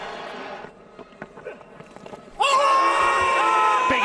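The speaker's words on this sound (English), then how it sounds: "Just listen to the reaction in the crowd" A cricket crowd at the Pakistan vs England first Test erupts in a loud, sustained roar after a big appeal, following a few seconds of quieter murmur.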